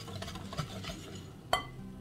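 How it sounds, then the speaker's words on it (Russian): A spoon stirs sugar into a bowl of kulich dough ingredients with soft scraping and a couple of light clinks, quiet and close. "Размешиваем."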